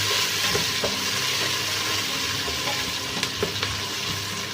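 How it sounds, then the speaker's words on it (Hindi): Sliced onions frying in a pan on low heat for aloo gobi, giving a steady hissing sizzle with scattered small pops and crackles, close by and without talk. "प्याज़ों को हम लाइट ब्राउन करेंगे,"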